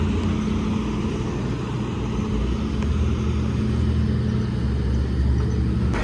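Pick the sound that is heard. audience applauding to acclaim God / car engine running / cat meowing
car engine running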